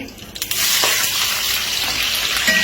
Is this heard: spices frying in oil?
yes